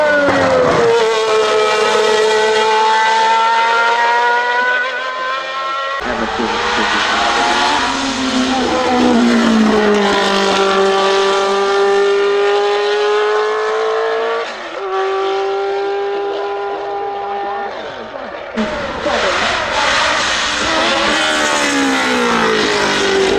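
A McLaren race car drives past at the Goodwood Festival of Speed, its loud engine revving hard and shifting through gears with rising and falling pitch, close and dominant throughout.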